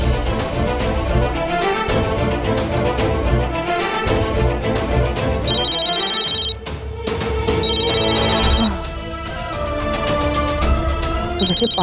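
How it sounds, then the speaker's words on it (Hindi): A mobile phone rings with a looping electronic melody, loud and close, playing alone without talk and dipping briefly partway through before continuing. "निशी का फोन बज रहा है।"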